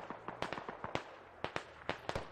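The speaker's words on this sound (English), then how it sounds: "someone shot a rocket at him" Rocket fire and explosions in the video game Squad, a rapid run of sharp cracks and bangs, fairly faint and irregular over a couple of seconds, no talk.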